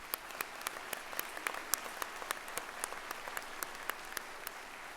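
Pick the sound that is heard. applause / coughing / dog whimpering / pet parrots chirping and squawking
applause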